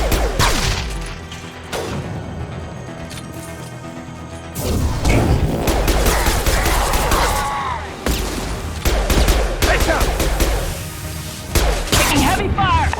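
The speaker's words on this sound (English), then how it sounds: "Taking heavy fire!" Heavy gunfire in the Mass Effect 2 Legendary Edition video game: rapid bursts of weapon shots, crashes and impacts in a loud combat exchange, with voices speaking over the fighting.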